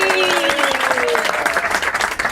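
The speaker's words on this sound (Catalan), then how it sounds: "Un aplaudiment per en Xavi, que és el nostre tècnic d'avui." People in a Catalan radio studio give a short round of applause for a technician, brisk clapping heard close for about two seconds alongside a faint whistling tone that fades out.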